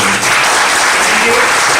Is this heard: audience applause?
yes